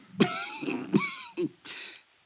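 A few rough, throaty bursts, like coughing or throat clearing, close by, with short pauses between them.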